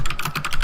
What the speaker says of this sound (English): Less typing, I can't hear.